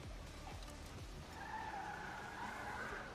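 Renault Twizy electric microcar driving in GTA 5 on a FiveM server, with a steady tire skid and squeal rising midway over continuous road noise, fairly quiet and steady throughout.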